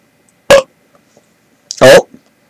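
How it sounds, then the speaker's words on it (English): Two short, abrupt burps from a person, the second louder and longer, close to the mic in an otherwise quiet room. "Oh, burping."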